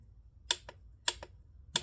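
A torque wrench clicks at its automatic shut-off while tightening a spark plug on a Saab 9-3, giving three quick paired clicks, close and crisp over a quiet background.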